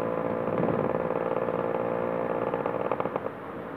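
A Yamaha RX two-stroke motorcycle riding along a highway, its buzzing engine steady and close throughout with a brief rise in rattle near the end before easing off.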